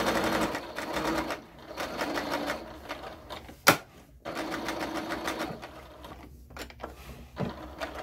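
A sewing machine stitches an oven mitt in steady rapid bursts, pausing briefly with a sharp click midway, then resuming at a similar pace and fading near the end.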